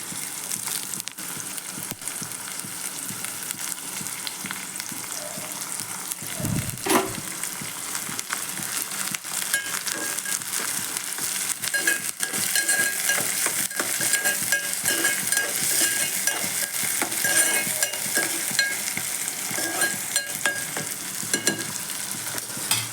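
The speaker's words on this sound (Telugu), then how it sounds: "ఆనియన్స్ మంచి గోల్డ్ కలర్ వచ్చేంత వరకు మనం ఆయిల్లో వేపుకోవాలి." Onions and curry leaves frying in oil over high flame make a long, dense, crackling sizzle close by, broken by frequent scraping and knocking of a stirring spoon, with no one speaking.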